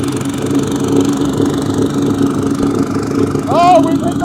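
A Wacker Neuson DPU-62 plate compactor runs at full throttle, a loud steady droning engine rumble with constant vibration, close and unbroken, with a voice briefly calling out over it near the end.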